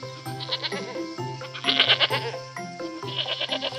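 A young goat bleats repeatedly in short wavering cries, louder in the middle, over a soft background of music-like tones.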